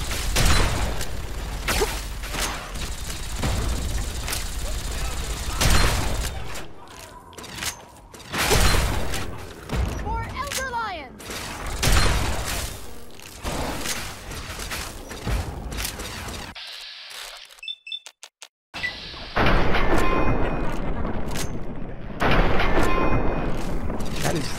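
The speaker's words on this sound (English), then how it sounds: "Everything's exploding." Loud, dense explosions and gunfire from the video game Fallout 3, repeated heavy bursts and mechanical clatter filling the scene, with a brief dropout to near silence before the noise resumes.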